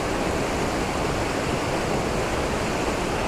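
A waterfall at Tokul Creek, Washington pours as a dense, even, close roar of rushing water, steady and unbroken throughout with no voices.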